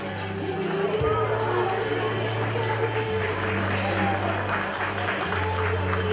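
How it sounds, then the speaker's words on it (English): Guests applaud the newlyweds at a wedding reception at Malibou Lake Mountain Club, a dense, steady round of clapping over low background music, with faint crowd noise. "How about a nice round of applause, ladies and gentlemen?"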